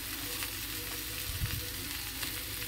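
Food fries in a pan with turmeric just added, a steady soft sizzle running throughout with a few faint stirring knocks near the middle, no voices present.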